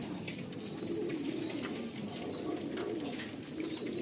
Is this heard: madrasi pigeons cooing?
yes